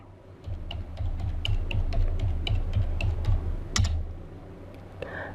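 Someone enters a device's IP address in a web browser on a computer keyboard, producing brisk, distinct key taps close up over a low hum, ending with a firmer final keystroke.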